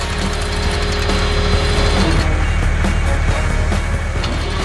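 Garbage truck at an irrigation canal dig site on a farm, its engine rumbling steadily and loud with mechanical rattling and clanking throughout, as it readies to pull away once the trench is cleared.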